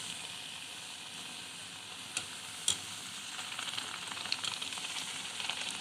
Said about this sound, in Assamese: এনেদৰে মই এইখিনি ফুচকাখিনি ভাজি লওঁ